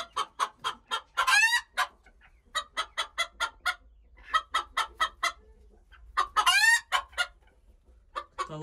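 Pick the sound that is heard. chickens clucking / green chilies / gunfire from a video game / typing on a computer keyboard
chickens clucking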